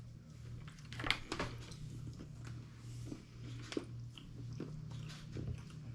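Biting and chewing a dark chocolate bar with almonds, close and quiet, with soft crunches and moist chewing over a low steady hum.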